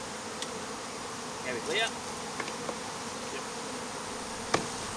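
Honey bees buzz steadily around an open hive of five-frame supers, a dense constant hum close by, with people briefly talking over it.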